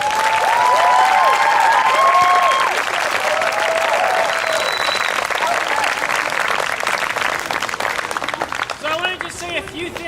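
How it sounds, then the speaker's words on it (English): Loud, sustained applause and cheering from a crowd at a dance performance in San Jose, dense clapping throughout with whistles and vocal cheers rising over it early on, easing a little toward the end. "Let's give these guys a round of applause."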